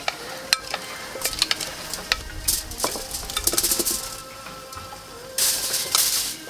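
Potatoes and onion being tossed and mixed with fresh thyme, salt and pepper, a series of close scraping, clinking and rustling bursts with a soft sizzle underneath, louder toward the end.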